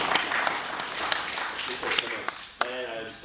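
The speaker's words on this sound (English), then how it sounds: "Round of applause." Audience applause at an open-source AI tech talk in New York: steady, moderately loud clapping from a crowd with scattered sharper claps, continuing for a few seconds and thinning toward the end.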